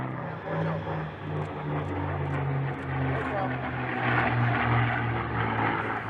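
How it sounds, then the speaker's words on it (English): A large military propeller plane lifts off a runway with a broad, droning engine roar that holds steady and swells slightly toward the end, heard from a moderate distance. "The plane flies in the air for one last time"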